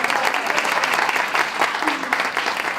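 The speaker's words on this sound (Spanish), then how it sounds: "ahora un aplauso a los de Gasteiz" An audience at a poetry event claps and applauds steadily and loudly, a dense continuous patter with some voices mixed in.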